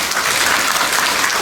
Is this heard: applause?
yes